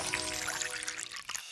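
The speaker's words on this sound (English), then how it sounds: "Lastly, you pour over hot water at 205 degrees Fahrenheit." Hot water at 205 degrees Fahrenheit poured over freshly roasted, stone-ground coffee in an animated kitchen, a steady close splashing pour that tapers off and cuts out near the end.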